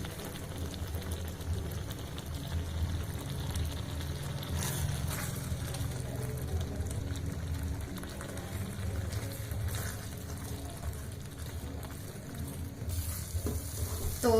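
Carrot halwa sizzles and scrapes in a pan as it is stirred to dry, a continuous close frying hiss with irregular spoon scrapes and no talking.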